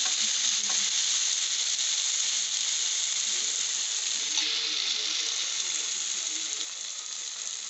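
Onions sauteing in a pan for masala avalakki, giving a continuous bright hiss of frying that stays even and close, with a few faint scrapes of stirring.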